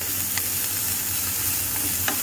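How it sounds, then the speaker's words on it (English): Steady, dense sizzling of onions and chilies frying in a hot pan for Indonesian nasi goreng, with a few faint scrapes of stirring; no one speaks. "So I'm going to give this a stir. So the pan is sizzling."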